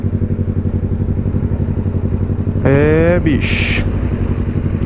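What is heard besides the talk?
Yamaha MT-03 motorcycle riding on a long trip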